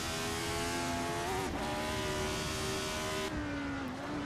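A racing car on the tight Circuit Clermont-Ferrand brakes and downshifts toward a hard, sharp chicane, its engine a loud, continuous droning whine whose pitch wavers and drops as the gears change, heard alone without talk.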